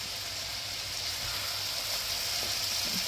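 Sponge gourd (dhundul) stir-frying in oil for a Bengali puti fish curry with green banana, giving a steady, close hiss and sizzle that runs unbroken throughout, with faint scraping stirs and no talk.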